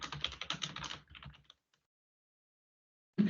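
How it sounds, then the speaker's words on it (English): A name is typed on a computer keyboard in quick clicking keystrokes for about a second and a half, then silence, before another brief burst of taps. "Next, you'll need to type your name at the top."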